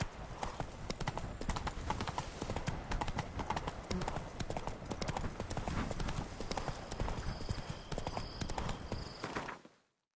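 Roach, a horse in The Witcher 3, gallops in a steady, driving clip-clop of hooves, loud and close, running nonstop for about ten seconds before cutting off abruptly.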